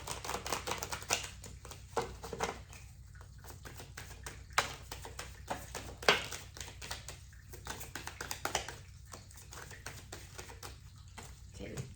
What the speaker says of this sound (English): I'm gonna give it a quick shuffle.